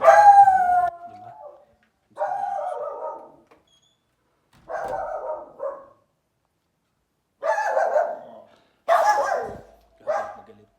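A dog howls and barks in six separate drawn-out bursts, close by, with short silences between them.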